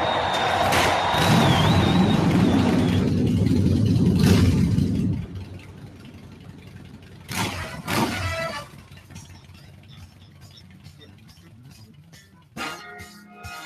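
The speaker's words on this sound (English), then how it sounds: "Drivers, start your engines!" Kart racing engines in a Mario Kart promo start up and rev loudly for several seconds, then cut to quieter bursts of revving and a few sharp hits.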